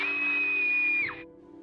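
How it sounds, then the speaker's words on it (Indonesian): A loud, sustained high scream from a girl in a Korean horror film, held steadily for about a second before breaking off and dropping away into quiet. "kemudian diiringi dengan suara keras teriakan Song Hye."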